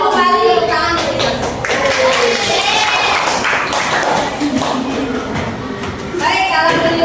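Pupils in an Indonesian classroom clap their hands together, patting in a busy, uneven patter close by, mixed with lively children's chatter throughout.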